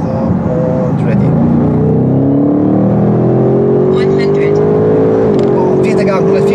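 An Audi RS7 C8 accelerates hard, its engine pitch climbing steadily through the gears with a brief dip at a shift, loud and close from inside the car while someone talks over it.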